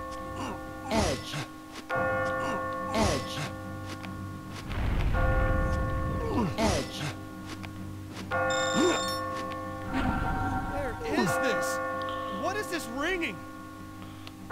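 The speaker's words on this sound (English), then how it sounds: "As you near the top, you will hear a bell ringing." Bells chime repeatedly over a steady hum in the video game Catherine, near the top of a tower, their tones ringing out at intervals while a person talks throughout.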